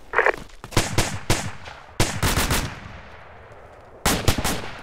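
Rapid gunfire rings out in sharp bursts of several shots, close and loud, with short gaps between volleys and a final burst near the end, no talk over it.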